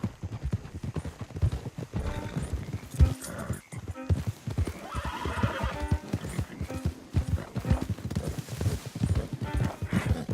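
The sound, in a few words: horses' hooves clopping, from the video game Red Dead Redemption 2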